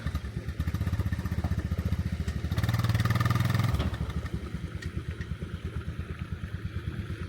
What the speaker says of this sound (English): These Honda 250s are one of the best value for ability four-wheelers there is.